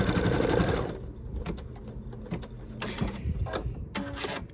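An embroidery sewing machine stitches a spring flowers umbrella design onto a towel, its loud, steady mechanical whir running throughout with brief pauses and clicking changes in pace.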